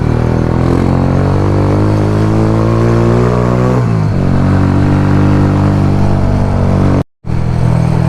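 A loud motorcycle engine revs and drones steadily close up, pitch dipping once midway, then cuts out for a split second before roaring again, in Jamaica.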